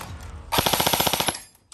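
A Game Face airsoft AEG rifle fires a rapid full-auto burst of about a dozen sharp, evenly spaced shots, close and loud, after a moment of quiet.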